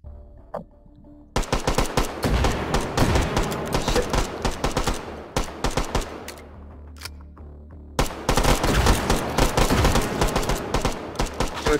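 WWII-era guns fire in a hot dog shooting game, with a brief quiet stretch followed by long bursts of rapid, loud, close gunshots, a short pause, then more sustained firing, no talking.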